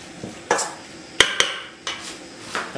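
A frying pan is set on a stove, giving a few sharp metallic clanks and knocks spaced irregularly, close and fairly quiet, with no talk.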